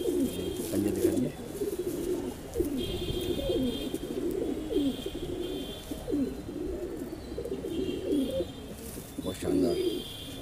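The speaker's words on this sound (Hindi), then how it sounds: "ये वाली दिल्ली की कबूतरी है" Delhi pigeons coo repeatedly in low, throaty rolling calls, several birds overlapping close by in a continuous chorus, with faint chirps and thin high tones above them.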